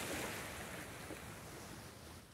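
Surf washes steadily onto a rocky beach popular with surfers, a faint, continuous distant roar with wind noise and no voices.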